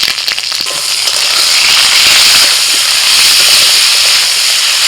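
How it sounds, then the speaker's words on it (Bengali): Potatoes hit hot mustard oil in a wok with a loud, close, steady sizzle and crackle that swells after the first second and then holds. "কড়াইতে আরেকটু সরষের তেল দিয়েছি, তেলের মধ্যে দিয়ে দিচ্ছি আলু"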